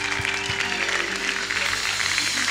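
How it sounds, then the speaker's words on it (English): A church congregation claps together in praise during an evening promotion service, a dense, steady wash of many hands that carries on without a break, with faint sustained musical tones beneath it. "Just a hand clap of praise tonight."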